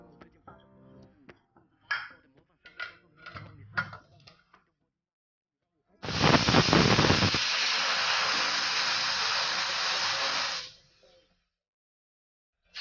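Pressure cooker on the stove with sambar inside lets out one long, loud steam whistle and hiss lasting about five seconds before cutting off. Brief clicks and light kitchen clatter come before it.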